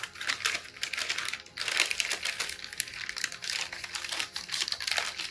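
A pouch of cheese tortellini from a military MRE slides into a plastic heater bag, making continuous close crinkling and rustling of plastic and foil.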